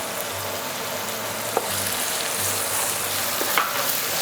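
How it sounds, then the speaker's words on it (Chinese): Garlic, chili, ginger and scallion stir-fried in a pan for a spicy Sichuan-style seafood sauce, giving a dense close sizzle with a couple of sharp utensil taps, steady and fairly loud, no talking. "这些香料炒香"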